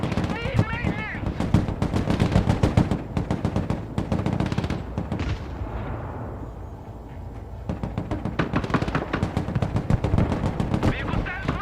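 Rapid machine-gun bursts and single gunshots crackle almost nonstop in the Broken Arrow military strategy game, with a brief lull midway before the dense firing resumes, mixed with game voice radio chatter.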